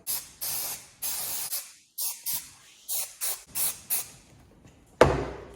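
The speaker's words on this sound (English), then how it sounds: "we need to spray some fresh metal glue on there" Close, repeated short hisses of an aerosol can spraying metal glue for a 1969 Pontiac Firebird package tray, about eight quick bursts in a steady rhythm, followed by a clunk.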